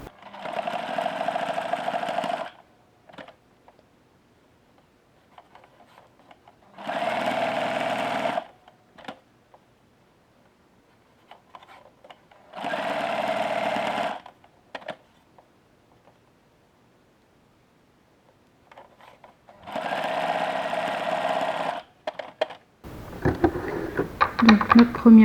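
Sewing machine stitching a hem on a cushion cover, heard in four loud, steady bursts of a few seconds each, separated by quiet pauses with small handling rustles, and a louder burst of rustle at the end.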